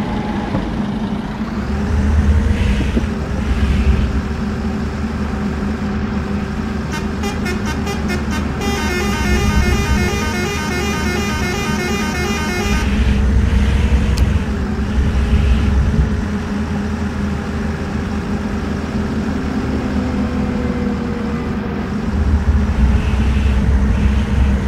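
Neoplan Skyliner bus in Bus Simulator Ultimate cruising at high speed, a steady low engine drone with road rumble throughout and a brief rapid horn-like tone pattern near the middle.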